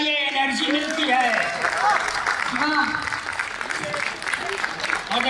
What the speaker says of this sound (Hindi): तब ताली बजाइए, एनर्जी मिलती है।